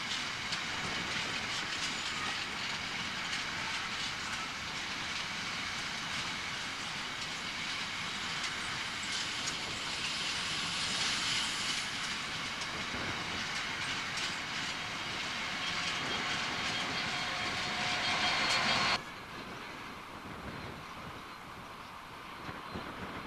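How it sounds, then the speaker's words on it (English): Freightliner top-and-tail train of empty wagons heading for Rossington Colliery rolls steadily past near the line for about nineteen seconds, wheels clattering and rumbling, then the noise drops abruptly to a quieter hum as it clears. "coming up from flyover West Junction, is this top and tail set of Freightliner empties, bound for Rossington Colliery"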